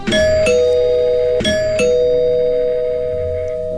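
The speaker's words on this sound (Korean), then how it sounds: "초인종이 울리는 겁니다." A two-tone doorbell chimes twice in a horror story broadcast, each ding-dong ringing loud and clear before the last tone slowly fades, with no talk over it.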